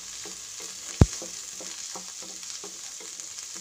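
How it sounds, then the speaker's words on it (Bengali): Chicken pieces frying in a pan for fried rice, a continuous close sizzle with soft rhythmic scraping as they are stirred and one sharp knock of the spatula against the pan, no voices. "নেড়ে চেড়ে ভেজে নিচ্ছি চিকেনগুলো"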